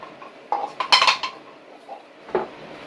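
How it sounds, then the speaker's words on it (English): A metal spoon clinks and scrapes against a cooking pot during a final stir, giving a few sharp separate knocks and a brief flurry of clinks, close and clear, with no talking. "Give my pot one nice final stir here"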